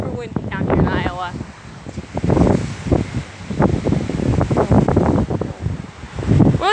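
Strong gusty wind in Iowa battering the microphone in loud rushing bursts, with rustling and a person talking under the noise.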